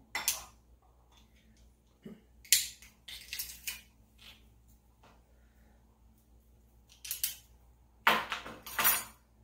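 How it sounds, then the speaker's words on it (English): Two garlic cloves are crushed for a homemade Caesar dressing, a few sharp crunchy presses in bursts with quiet gaps between, close and fairly faint. "I'm going to crush 2 cloves of garlic"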